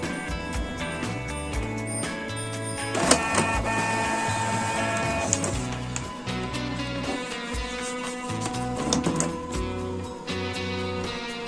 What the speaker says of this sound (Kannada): ಒಂದು ಆಳಿ ಪ್ರಿಂಟ್ ಬರುತ್ತೆ ಈಗ ನೋಡಿ